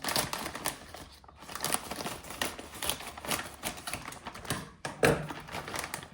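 Crisp snipping and crinkling of a plastic packet being cut open, a series of close, irregular sharp clicks and rustles.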